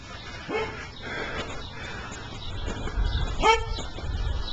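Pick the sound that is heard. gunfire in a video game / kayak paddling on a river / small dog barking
small dog barking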